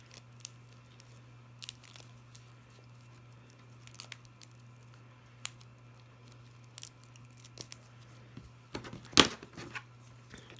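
Scissors snip and trim while a daffodil bouquet wreath is assembled, with sparse quiet cuts and rustling over a steady low hum, followed by one sharper, louder crunch near the end.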